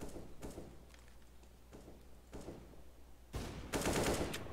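Counter-Strike gunfire on the Inferno map, heard as scattered distant shots early on, then a louder, denser burst of rapid automatic fire near the end, with no speech.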